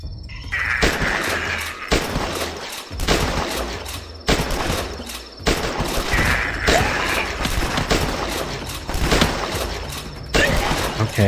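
Loud, dense gunfire rings out in rapid bursts while zombies, including cop zombies, are shot in the Flash game The Last Stand, with brief gaps between volleys and no talk.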